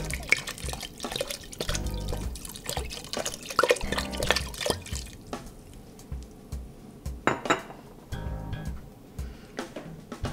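Stock is poured into a pot of soup au pistou with turnips and parsley, a close splashing pour punctuated by clinks and knocks of the pot and utensils, with no talk.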